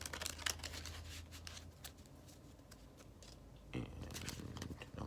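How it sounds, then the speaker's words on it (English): Tarot or playing cards being shuffled by hand, a quiet, close run of irregular papery riffles and taps with brief crisp bursts, soft and intimate with no talk over it. "I'm just shuffling."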